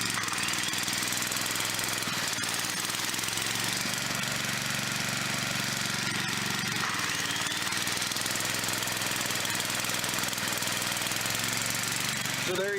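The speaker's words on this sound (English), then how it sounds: "I'm running my generator completely on the vapors that are produced by this gasifier." Small gasoline generator running entirely on wood-gas vapors from a homemade gasifier, a steady rough engine drone with knocking, hammer-like pulses, holding loud and continuous throughout with no talk.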